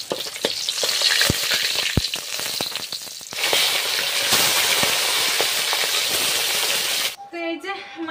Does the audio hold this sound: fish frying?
yes